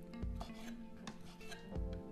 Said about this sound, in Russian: Креветки у меня достаточно крупные, поэтому режу их вот так,